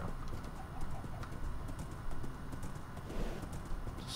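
Horse hooves clip-clop in Minecraft as a mounted horse moves along, quiet rhythmic clopping steps over a faint background.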